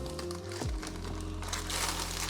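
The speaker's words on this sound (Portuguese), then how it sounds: "Ele também vem num plástico." Plastic wrapping around an Akko MonsGeek FUN60 magnetic keyboard crinkles close to the mic in a continuous rustle over a low steady hum.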